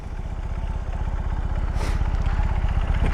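A BMW R 18 motorcycle engine runs with a steady, loud, pulsing low thrum up close, rising slightly in level, with a short hiss midway.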